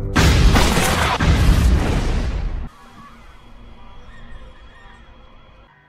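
A bomb blast at a residential compound in a film, a loud roaring explosion with rumbling bursts for about two and a half seconds, then cutting abruptly to a quiet, faint background.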